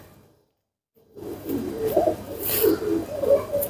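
Soft cooing of a medium-sized Teddy pigeon, a few low throaty calls close by after a brief silence, with light rustling in the background.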